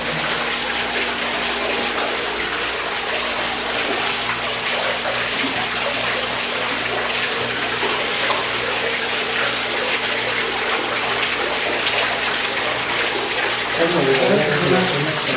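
A pump-driven artificial waterfall runs steadily, a loud broad rush of falling water throughout, with people talking underneath.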